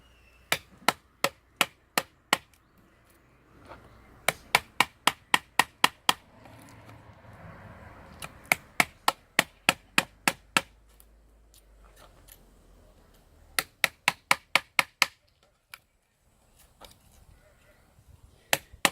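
A Cold Steel Mackinac Hunter knife chops into dried oak over an inch thick, sharp woody thwacks landing in fast bursts of several strikes separated by short pauses, with some faint rustling between.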